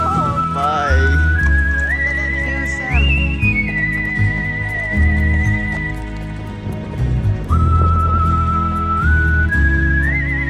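A horse neighs with rising and falling whinnies over a loud, steady low rumble, with long whistle-like tones running through much of the scene.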